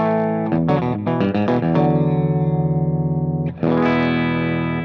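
An electric guitar through a Wampler Hot Wired v2 overdrive pedal, with an amp cranked, plays quick picked notes with gritty overdrive, then holds a sustained chord before striking again, loud and close.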